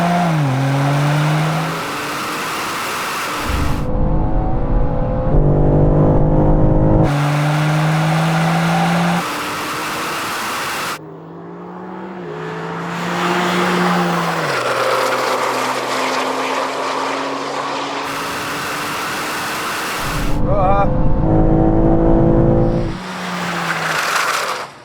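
Two Manhart BMWs, an M3 and an M2, launch in a drag race. Loud engines rev and climb through gear changes with rising whines and tire noise, then fade as the cars pull away, and revving starts again between passes.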